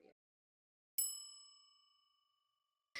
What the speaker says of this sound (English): ring the bell for notifications